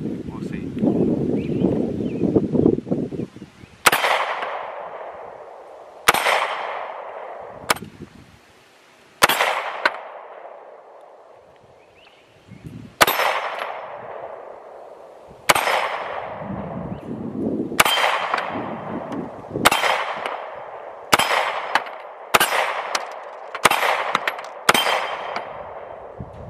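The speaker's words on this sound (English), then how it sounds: "This time we'll shoot another two-handed, and then we'll shoot one-handed, and we'll see." A pistol fires a magazine of rounds outdoors, about a dozen loud, sharp shots at irregular intervals, each with a ringing decay, and they come faster toward the end, with wind noise and some talking in between.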